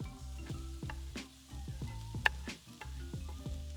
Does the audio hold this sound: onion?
yes